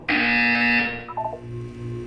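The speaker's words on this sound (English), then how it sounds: "When you hear the buzzer, look down at the floor." A loud, steady electronic buzzer in the game Portal 2 drones for about a second, then cuts off and leaves a quieter low hum with a few short blips.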